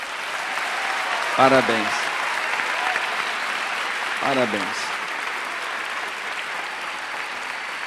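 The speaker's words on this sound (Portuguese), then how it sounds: "Dá um aplauso para esse pessoal aqui" A church congregation bursts into brief applause twice, each short round of clapping fading quickly, while a voice speaks over the hall.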